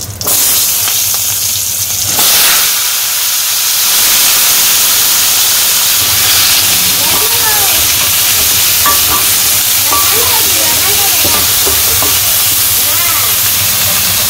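Vegetables dropped into hot oil with cumin in a wok, a sudden loud hiss and sizzle that settles into a steady bright frying roar with light stirring scrapes and faint voices beneath.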